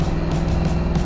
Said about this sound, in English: That's a car, Bill!